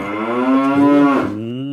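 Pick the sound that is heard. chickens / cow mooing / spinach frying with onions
cow mooing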